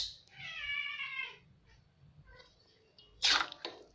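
A cat gives one clear, drawn-out meow, near and fairly quiet, followed by brief soft sounds and a short sharp sneeze-like burst, in an otherwise quiet kitchen with no talking.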